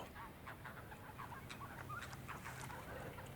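Wild birds chirping and calling from perches overhead, a scatter of short bright calls over a steady outdoor background hiss, fairly faint and close.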